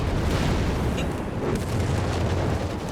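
Heavy 105mm Sherman tank cannon fire in the Company of Heroes 3 battlefield, a dense, sustained rumbling blast with a dull boom near the start and a second thump around the midpoint, loud and close with no talk over it.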